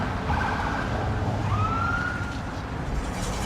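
An emergency vehicle siren wails on a busy road, its rising and falling tone sweeping over steady traffic rumble and sounding moderately distant.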